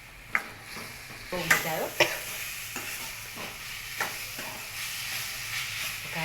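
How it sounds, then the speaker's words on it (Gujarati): Buttermilk splashes into a hot pan of tempered millet flatbread (vagharelo rotlo), setting off a loud hiss and sizzle with stirring clatter and sharp scrapes. A brief voice speaks over the cooking noise. "આપણે થોડીક જ છાશ નાખશું."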